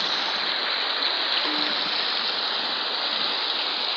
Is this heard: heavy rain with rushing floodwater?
yes